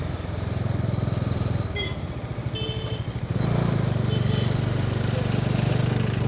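A Bajaj Dominar 400 motorcycle engine runs while riding, a loud close throbbing drone that dips and then surges louder partway through, with wind rush and no talk.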